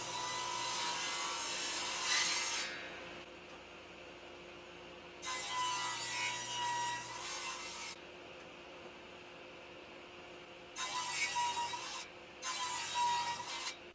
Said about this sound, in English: To join the corners of the bracket, I'm just making some bridle joints with my quickset tenon jig.